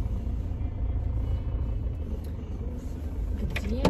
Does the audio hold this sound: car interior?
yes